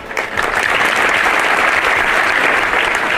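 An audience at a Shrimad Bhagwat Katha closing ceremony in Khurai bursts into loud, steady applause, dense clapping sustained throughout without talk.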